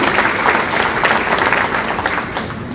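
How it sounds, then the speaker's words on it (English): Crowd applause at an overdose awareness summit in Crestview, a dense, loud burst of clapping from the audience that holds steady and tapers slightly at the end. "All right, one more round of applause."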